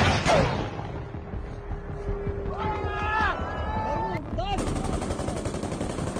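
Gunfire as Russian and Ukrainian soldiers fire at each other in battle, sharp bursts of shots over rumbling background noise, with a voice shouting briefly in the middle.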